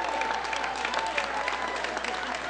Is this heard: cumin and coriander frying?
no